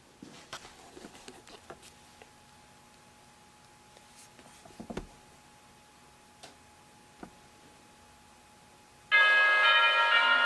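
Orchestral chimes, long metal tubes struck to imitate a ticking clock, sound as faint, sparse strokes with a lingering ring in a quiet musical introduction, before a sudden loud, full burst near the end.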